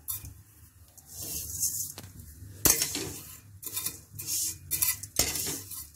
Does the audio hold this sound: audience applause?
no